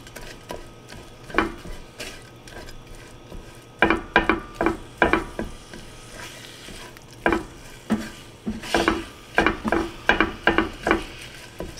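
A mustard and Worcestershire sauce mixture being stirred in a pan for bacon cheeseburger pickle poppers, irregular scraping clicks of the utensil coming in clustered bursts over a low sizzle.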